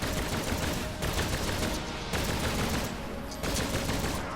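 A spread gun firing in Contra: Rogue Corps produces a loud, relentless stream of rapid shots in bursts, with a few brief breaks between volleys, close and aggressive.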